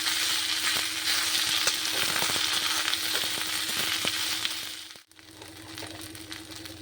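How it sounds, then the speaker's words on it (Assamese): Tender papaya leaves sizzle steadily in a pan over a low gas flame, a dense, continuous frying hiss with occasional stirring scrapes, briefly dipping near the end before resuming. "অকণমান ভাজিম"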